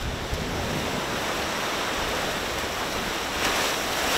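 Ocean waves wash over a sandy shore, making a steady, loud broadband roar of surf with a slight swell near the end and no speech.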